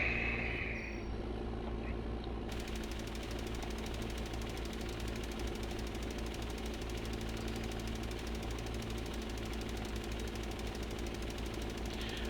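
A tractor engine in Farming Simulator 2015 drones continuously from the cab view while fertilizing wheat, a steady, even, knocking rumble with no change in pitch throughout.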